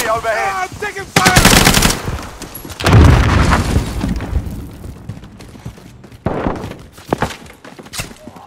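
Video game gunfire crackles in rapid automatic bursts with heavy booming impacts, loud and close, mixed with a few brief game voice callouts.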